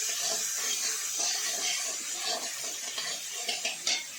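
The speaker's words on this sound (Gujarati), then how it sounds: "હવે આપણે જે ક્રોસ કરેલી ડુંગળી છે આ રીતે તે નાખી દઈશું અંદર આ રીતે તેને શેકી લેવાનું છે" Cross-cut whole onions roasting in a pan over medium heat for a Kathiyawadi onion curry, giving a steady soft hiss and sizzle with a few faint scrapes near the end.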